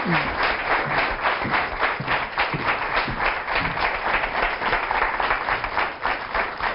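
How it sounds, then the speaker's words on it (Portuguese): Studio audience applauding for a guest named Madalena on a Portuguese television talk show, a dense, steady wash of many hands clapping at even loudness throughout. "Uma salva de palmas para a Madalena."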